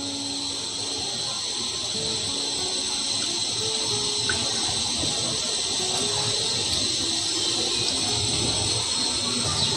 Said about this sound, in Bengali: আমার তেল গরম হয়ে গিয়েছে, আমি অল্প অল্প করে ছেড়ে দিচ্ছি